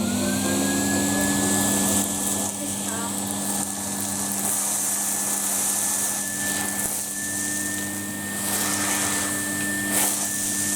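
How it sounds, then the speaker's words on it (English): A Hoover vacuum cleaner runs loudly and steadily throughout, with a constant whining motor hum and airflow roar. "Can you plug the Hoover in?"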